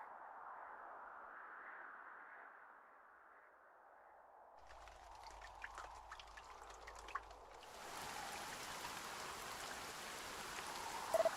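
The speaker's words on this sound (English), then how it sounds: "I guess we're supposed to be hearing rain." Steady rain falls in the Dragon Quest I HD-2D Remake video game. A soft, even wash builds into a denser, louder downpour partway through, with no voices.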